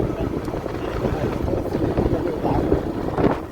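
A tractor engine rumbling as it drives off after a rotor blade change, a steady low close drone with wind buffeting on the microphone and a voice talking over it.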